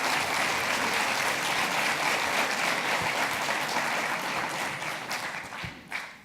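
An audience at a criminal lawyers' garage event claps in a full, steady round of applause that thins out and fades near the end, with a few last claps.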